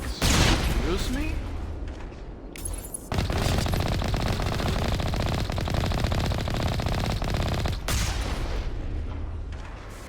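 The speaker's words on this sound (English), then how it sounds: "Who's shooting rockets here?" Heavy rocket and automatic weapons fire from a Mass Effect 1 battle, a dense, loud barrage of rapid gunshots and blasts running almost continuously, with a brief lull and a player's voice talking over the start.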